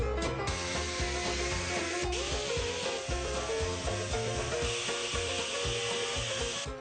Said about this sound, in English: grind the faces down a teeny bit, just so the paint looks a little better when it's done